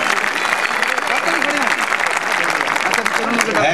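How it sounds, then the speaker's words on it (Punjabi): Dense, steady clapping from a live audience applauding Bhola of Bathinda at a Punjabi comedy stage event, continuous and loud throughout with crowd noise blended in. "ਭੋਲੇ ਦੇ ਨਾਮ ਦੀ ਤਾਲੀ।"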